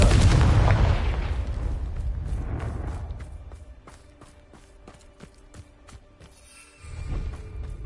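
A Confringo blasting curse in Hogwarts Legacy bursts in a loud explosive boom, then fades into scattered crackling pops and a low rumble that swells again near the end.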